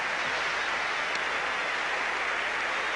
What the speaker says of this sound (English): So the crowd on their feet cheering this man